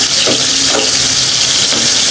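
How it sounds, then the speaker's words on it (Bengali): Pabda fish frying in hot oil, a loud and continuous sizzling hiss with a few soft bumps as pieces settle in the pan, close up and without talk. "মাছগুলো এখন একটা একটা করে তেলে দিয়ে দিব"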